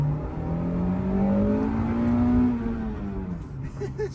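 An Acura Integra GS-R with a 5-speed accelerates hard on a twisty road, its engine note rising steadily in a loud, close, sustained rev before easing off near the end.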